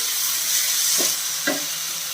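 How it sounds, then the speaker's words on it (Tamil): Onions and tomatoes sizzle and fry steadily in a hot pan, a constant bright hiss with a couple of soft stirring scrapes. "நம்ம வெங்காயம் தக்காளி நல்லாவே வதங்கிடுச்சு"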